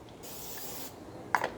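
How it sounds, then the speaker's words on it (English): Cooking spray fat misted onto small egg pans in a kitchen, a steady close hiss lasting under a second, followed by a brief clatter. "So I'm just going to use a little bit of spray fat."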